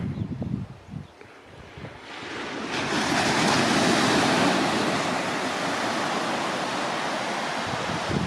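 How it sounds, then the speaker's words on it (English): Waves washing onto the beach at Arno Bay on the Eyre Peninsula, starting softer with gusty wind on the microphone, then swelling into a loud, sustained surf roar close by. "Doesn't look to be much sea out there, but it's making a good sound."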